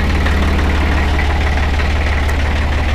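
A 1965 Deutz D 40 tractor engine idling close by, a loud, steady low-pitched chugging with an even pulsing rhythm and no voices.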